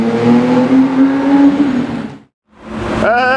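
A TVR sports car revving loudly with a rising engine note, cutting briefly to silence, then another sharp rev climbing in pitch, close by and with no talk.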